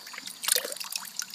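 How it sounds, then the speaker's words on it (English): A gold pan is dunked quickly into water, giving light splashing and trickling sounds in brief bursts, close and fairly faint. "I submerge it in water twice"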